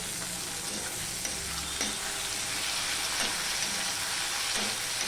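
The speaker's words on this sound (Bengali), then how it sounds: "এবার এই অবস্থায় আমি দিয়ে দিচ্ছি টমেটো কুচিগুলো" Chopped tomatoes frying with fried onions for a pabda fish curry, a steady dense sizzle with occasional soft stirring scrapes, close and continuous, no voices.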